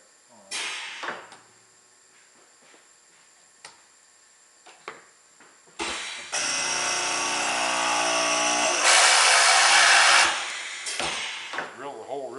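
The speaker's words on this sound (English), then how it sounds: "Drill the hole real quick." A Maka STV mortiser bores a hole in wood, starting with a few clicks and taps before the motor whines up loud and steady for several seconds, then winds down.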